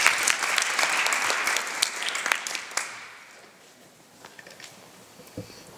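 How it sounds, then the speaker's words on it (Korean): Audience applause at an art gallery opening ceremony at Young-eun Museum, a burst of clapping from the room that is strong at first, then thins out and fades to a few scattered claps. "큰 박수 부탁드리겠습니다."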